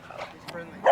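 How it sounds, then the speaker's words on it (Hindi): A small dog in Toronto's Regent Park gives a brief yip and bark near the end, close by and loud, with a person's voice talking over the sound. "वो कुत्ता मुझे देख के डर गया, मैं उससे डर गया।"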